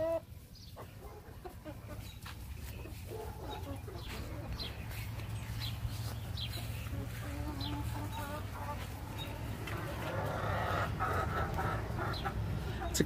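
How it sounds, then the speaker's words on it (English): Hens and roosters cluck and chatter continuously at close range in a backyard flock beside an RV, with a steady low background hum throughout. "That's a hen."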